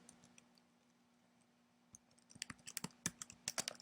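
Computer keyboard keys tapped in a quiet room, starting sparse and faint, then quickening into a brisk run of sharp clicks near the end as a word is typed into code.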